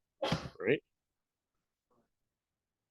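A single sneeze in a lecture hall, loud and close, followed by a brief spoken word and then near silence.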